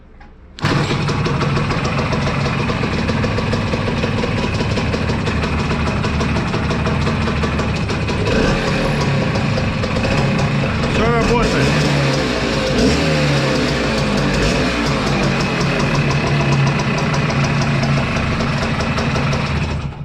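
A Voskhod 3M Sport motorcycle engine starts abruptly and keeps running loud and close for the whole stretch, with a steady, slightly uneven idle and a few small fluctuations in speed.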